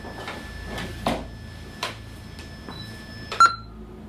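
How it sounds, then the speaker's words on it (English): A short, sharp electronic beep near the end, preceded by a few faint clicks and knocks in a quiet room. "What's beeping?"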